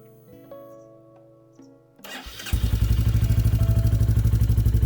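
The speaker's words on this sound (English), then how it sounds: "I've got to start the bike up to get this power" A Royal Enfield Classic 350 fires up after some quiet handling noises, the single-cylinder engine catching about halfway through and settling into a loud, close, steady thumping idle, with no talk.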